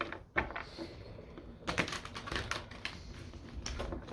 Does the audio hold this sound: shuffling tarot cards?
yes